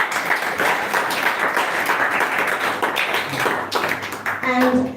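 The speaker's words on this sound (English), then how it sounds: "So let's give Prabhu another round of applause." A crowd gives a guest speaker a round of applause at a community spiritual gathering, dense steady clapping filling the whole stretch with some background voices mixed in.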